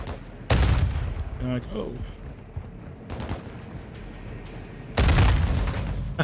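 Call of Duty: Modern Warfare 2 (2022) gunfire cracks out in heavy booming bursts, one near the start and another near the end, with scattered shots between and players talking briefly.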